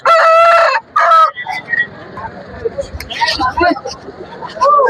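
Roosters at a country chicken market in Gokavaram, East Godavari, crow loudly nearby twice at the start, then clucking and scattered bird calls mix with background chatter of the crowd.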